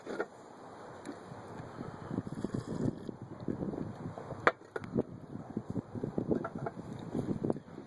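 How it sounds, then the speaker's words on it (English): Breezy easterly wind blows outdoors over open field grasses, producing a steady buffeting rumble across the microphone with scattered gusts and faint rustling, close and moderately loud, with no talking. "It's a little bit breezy out today."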